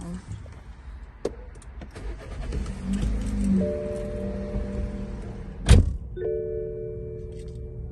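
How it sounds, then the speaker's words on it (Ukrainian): A 2016 BMW X1 xDrive 2.0 petrol engine cranks and starts, settling into a steady idle hum, with a sharp thunk partway through and faint clicks and rustling before it. "Зараз її заведемо."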